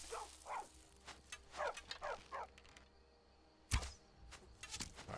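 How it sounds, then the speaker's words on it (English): A dog in the Skyrim game gives a series of short barks and yips in quick bursts, fairly faint, alongside soft ambient game sounds and a sharp impact near the end. "I do have issues with a talking dog that barks all the time."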